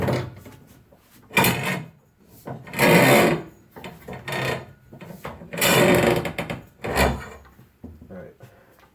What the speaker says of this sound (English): You're going to slide the spring itself off the tube.